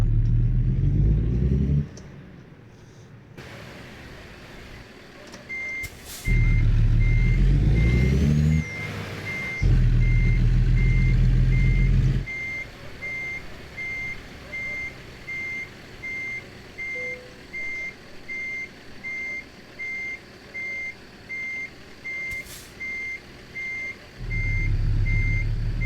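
Reversing alarm on a truck parking in American Truck Simulator, a steady run of evenly spaced beeps over a low engine idle, with engine rumble and revving bursts before and after.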